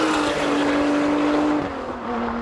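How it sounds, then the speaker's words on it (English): A Lotus Emira and a Toyota Supra accelerate hard side by side in a drag race, making a loud, sustained engine drone whose pitch drops briefly at a gear shift before climbing again. "That Lotus is going. Will that Toyota catch it up?"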